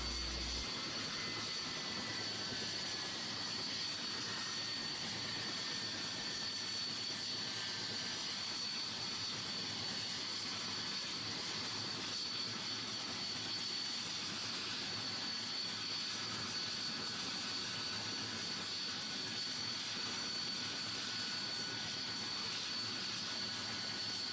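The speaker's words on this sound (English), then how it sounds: "Now it's time to test those helicopter blades and see how well they're put on." A steady, high whirring drone of small spinning helicopter rotor blades runs continuously, even and unbroken, with a constant hiss.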